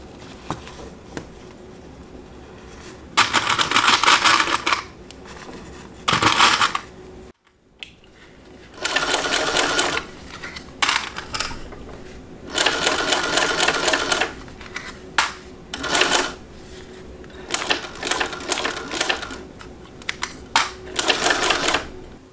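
A sewing machine top-stitches along the top edge of a pocket, running in repeated rapid bursts of stitching separated by short pauses, loud and close.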